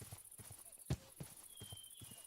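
A horse in the Minecraft video game clip-clops with soft, irregular hoof steps and one sharper thud, fairly quiet against a faint background tone.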